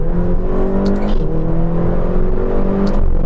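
McLaren GT supercar pulling hard from inside the cabin, engine note rising loudly before a quick shift into second gear and then climbing again, close and continuous with no talking.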